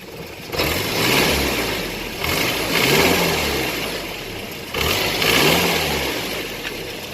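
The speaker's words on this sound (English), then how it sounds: "I do hear a slight exhaust leak." Small engine running after a fresh tappet adjustment, with a slight exhaust leak, idling steadily and swelling in a few short revs over about seven seconds, close and fairly loud, no talking.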